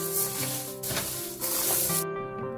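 Urad dal frying in a pan makes a steady sizzling crackle, close and continuous, with broad hiss throughout and no talking.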